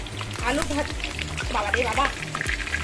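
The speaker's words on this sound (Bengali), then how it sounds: "আমি তেল গরম করার পরে আলুগুলো লাল লাল করে ভাজবো বলে" Potato pieces fry in hot oil in a home kitchen, giving a continuous crackling sizzle while someone talks over it.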